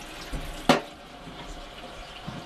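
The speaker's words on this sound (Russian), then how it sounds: "Наливаю в кастрюльку." Tap water pours briefly into a small saucepan in a kitchen, a single short splash burst in a quiet room with faint background noise.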